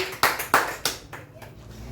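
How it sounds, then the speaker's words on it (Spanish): Church congregation clapping in a few sharp, separate bursts at close range, each clap ringing briefly before the next, then fading into quieter scattered claps. "Denle un fuerte aplauso a Dios"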